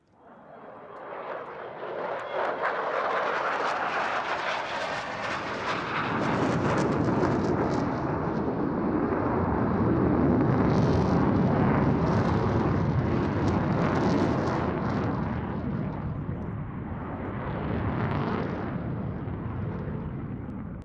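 A Danish Lockheed Martin F-16AM fighter jet roars through a solo display flight at an airshow, a loud sustained jet engine rumble that swells and shifts in pitch as it passes for about twenty seconds.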